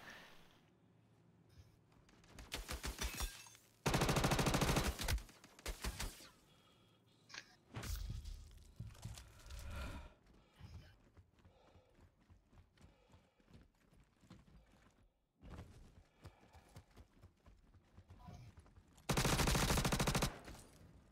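Gunfire in the Star Citizen Star Marine shooter comes as several sharp bursts, a few loud and sustained, scattered between quieter clattering and thumps, with no voices.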